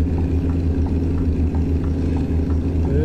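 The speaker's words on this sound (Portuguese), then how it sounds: "O somzinho da turbina ficou muito show também." Heavy truck engine in a truck driving video game on a Brazilian route map, holding a steady, loud low drone with a faint rising whine near the end and no talking.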